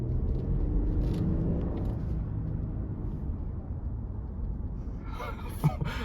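Toyota Land Cruiser 300 with a 3.5-litre twin-turbo V6 petrol engine accelerating, a steady low rumble and engine drone heard from inside the heavy SUV, with a faint clunk near the end.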